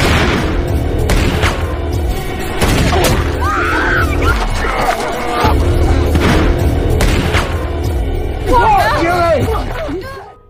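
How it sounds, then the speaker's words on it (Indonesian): Loud film shootout action mix with booming impacts and crashes, shouting voices and sharp gunshot bursts scattered through a dense, chaotic soundtrack. "terjadilah baku tembak"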